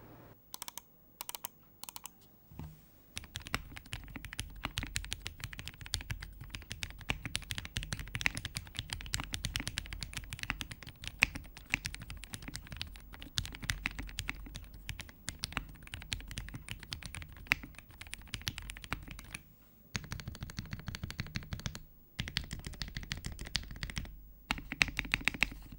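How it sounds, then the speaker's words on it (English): Rapid, steady typing on an MW65 gasket-mount acrylic mechanical keyboard with MMD Cream switches, clacky keystrokes up close and a few short pauses between bursts. "time for the typing sound test."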